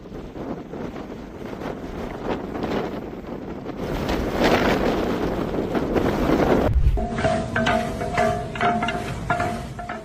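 Strong wind roars and buffets the microphone in heavy, rushing gusts that build in intensity near a railway line, then gives way abruptly to a quieter scene with a faint tonal hum.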